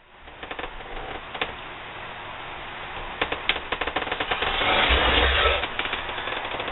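Fabric and batting for a quilt-as-you-go patriotic table runner being cut along a ruler: a steady crunchy cutting noise broken by rapid ticking clicks, close and fairly quiet, with no talking.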